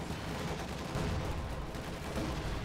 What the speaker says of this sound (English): there's some artillery coming in on Lemon's side that may catch the pack before it has a chance to get out of the way